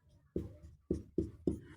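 Chalk or pen strokes on a board while working through an age-ratio maths problem: four short, firm scratching taps close by, each fading quickly, with quiet gaps and no talking.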